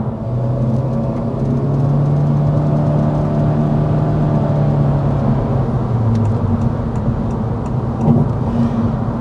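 A 2024 Honda Civic with a continuously variable transmission accelerates, its engine holding a steady drone with smooth tonal whine rather than distinct gear shifts, loud and continuous from inside the car.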